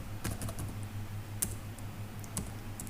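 Fingers type on a computer keyboard in a quick run of soft key clicks, with a couple of sharper keystrokes standing out over a faint background hum.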